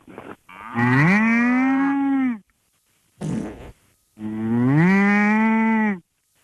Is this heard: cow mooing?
yes